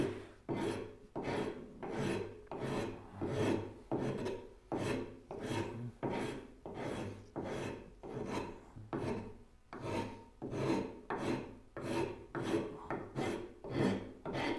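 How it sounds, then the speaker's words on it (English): A hand rasp works across wood in a steady back-and-forth rhythm, each stroke a distinct gritty scrape, about two strokes a second, close and moderately loud with no talking. "We may just rasp it."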